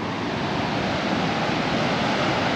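Steady, broadband rush of water flowing at Horseshoe Lake Dam, heard up close and loud as a constant roar with no breaks and no voices.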